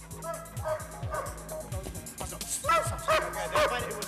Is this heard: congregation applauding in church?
no